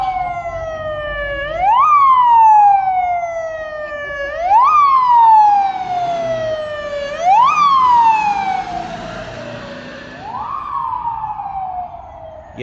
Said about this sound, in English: we've got another police car.